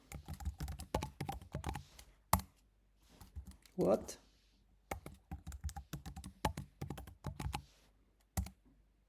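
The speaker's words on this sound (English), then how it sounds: "I was typing" Typing on a computer keyboard during a live coding session, with bursts of rapid clicking keystrokes close to the mic, interleaved with a man's speech and a brief exclamation.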